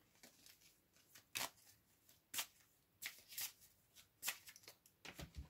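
Tarot cards being shuffled in repeated riffling bursts, crisp and close, with short pauses between each flurry and no voices.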